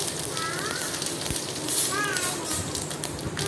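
Green chilies fry in hot oil with mustard seeds, a continuous crackling sizzle with small pops, close and steady, while someone talks over it.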